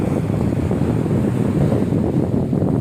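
Sea waves breaking on the Spanish coast near a seaside neighbourhood, a continuous loud rushing surf roar mixed with wind buffeting the microphone, no voices.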